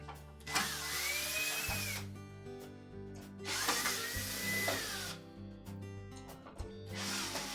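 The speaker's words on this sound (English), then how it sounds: "next we'll need to remove those 4 screws, 2 on either end and the 1 at the bottom" Power driver backing screws out of a Maytag dryer blower housing, three long whirring bursts of the motor with pauses between, close and loud with no talk.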